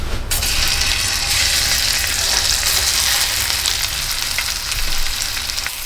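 Mountain trout sizzles loudly in a hot frying pan, a dense, steady crackle of oil that stays close and unbroken throughout, with no voices over it.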